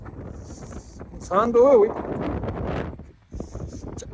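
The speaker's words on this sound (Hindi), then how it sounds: "बहुत हैवी स्नो है भैया, तेज हवा के साथ" Strong wind gusting through a heavy snowstorm beside a parked truck, a steady roar that rises briefly, with someone speaking close over it throughout.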